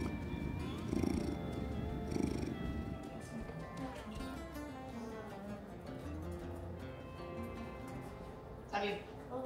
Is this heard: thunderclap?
no